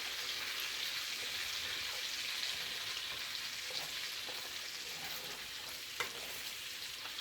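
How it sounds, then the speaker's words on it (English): Butter and pan grease melt and sizzle in a frying pan on a home stove, a steady soft hiss throughout with faint stirring ticks, no talk. "he put a little bit of the grease back into his pan, and then half a stick of butter"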